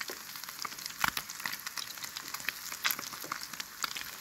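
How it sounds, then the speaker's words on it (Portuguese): Fish crackles and sizzles as it fries in oil in a frying pan at a riverside camp, with a steady close hiss broken by frequent small pops. "Olha, tá estralando"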